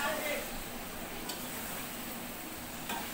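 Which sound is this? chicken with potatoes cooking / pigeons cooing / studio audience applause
chicken with potatoes cooking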